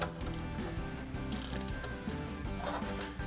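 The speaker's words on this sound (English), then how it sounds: "we want to torque them all to 89 inch pounds" Close, rapid ratcheting clicks of a torque wrench tightening oil pump bolts on a 6.7L Powerstroke diesel engine, rhythmic metallic clicking with no talk.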